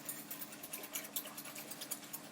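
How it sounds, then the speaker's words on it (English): Homemade custard mixture of sugar and corn flour being whisked, a quiet, rapid rhythmic ticking and swishing of the whisk against the bowl, steady and close. "And just keep whisking it."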